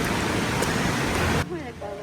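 A loud river rushing nearby, a dense broadband roar that fills the clip and drops suddenly near the end, where faint voices come through.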